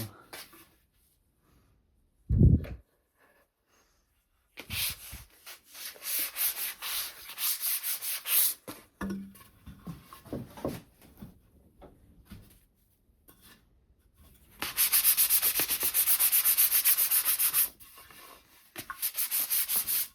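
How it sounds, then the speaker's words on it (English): Foam-backed sandpaper rubbing over a wooden foot stool, in bursts of brisk scratchy back-and-forth strokes, close and fairly loud, with a few knocks and pauses between passes and a long steady stretch near the end. "foam back sandpaper, which is nice to use for things like this, but regular sandpaper works as well."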